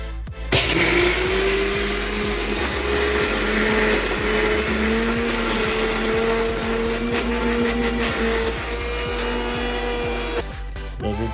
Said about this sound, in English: Ready to grind.